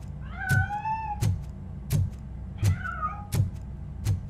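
A cat meows twice in the video game RoboCop: Rogue City, each a clear rising-then-falling call, with sharp thumping impacts striking at a steady beat alongside.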